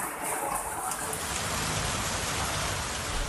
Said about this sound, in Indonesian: hujan deras disertai angin kencang dan hujan es menerjang kota Tasikmalaya